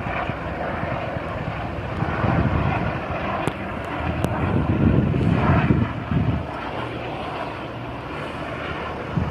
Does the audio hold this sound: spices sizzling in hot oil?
no